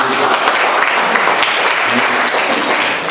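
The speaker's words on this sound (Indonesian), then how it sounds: "Tepuk tangan buat Tuhan" A church congregation at Abbalove Kelapa Gading applauds for God, producing loud, dense, continuous clapping that fills the room, with voices mixed faintly into the crowd noise.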